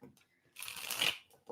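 A tarot deck being shuffled by hand, one bright riffling burst lasting about half a second, close and clear, set between soft breaths and faint voice sounds.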